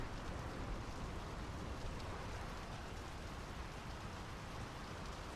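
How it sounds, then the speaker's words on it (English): Steady, dense rain in the video game Draugen hisses evenly and continuously, a constant wash of falling drops with no breaks. "The rain's picking up."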